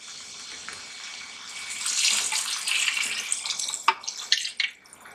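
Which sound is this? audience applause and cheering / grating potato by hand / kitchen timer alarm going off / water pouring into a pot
water pouring into a pot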